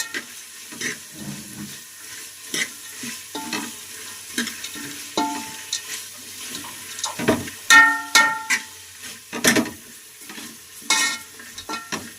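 Drumstick leaves frying in oil in a pan for a sambar, a soft crackling sizzle broken by repeated scrapes and clinks of a spoon stirring, growing busier toward the end.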